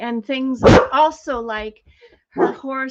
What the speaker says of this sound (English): that's my dog barking at my horses outside